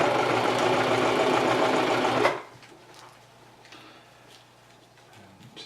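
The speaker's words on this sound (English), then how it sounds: "make sure you do a little reverse just to get the sewing machine to get that extra grab there" A sewing machine stitches a starting seam with a short reverse on water-resistant skate boot covers, running in a loud steady whirring burst for about two seconds before stopping, leaving quiet handling noise.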